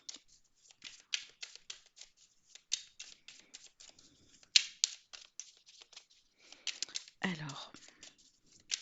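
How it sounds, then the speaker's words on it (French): Tarot cards being shuffled in a deck, a steady run of soft, close riffling and shuffling bursts with a brief louder scrape near the end, under a quiet whisper-like hush. "Alors, on mélange bien les cartes."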